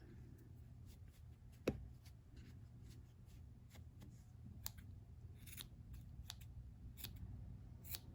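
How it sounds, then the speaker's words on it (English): Scissors snip through acrylic yarn tails while trimming a crocheted pom-pom on a chunky no-sew bunny, giving one sharp, close cut followed by faint, scattered little snips and rustles at a low level. "you can just cut them to be part of your pom-pom"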